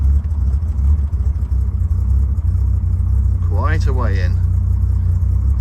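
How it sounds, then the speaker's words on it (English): A Triumph Vitesse with twin Stromberg carburetors idles with the choke pushed in, a steady low engine rumble running throughout while someone speaks briefly over it. "as it starts to 8-stroke, we'll push the choke in until it's comfortable."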